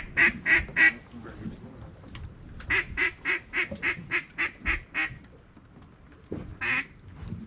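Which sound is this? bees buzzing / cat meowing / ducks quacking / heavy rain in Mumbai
ducks quacking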